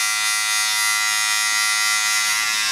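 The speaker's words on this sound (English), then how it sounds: "So this is just my cordless clipper all the way open." A cordless hair clipper with its blade fully open buzzes steadily and close up while tapering sideburns in a barbershop, a continuous bright electric hum with no talk over it.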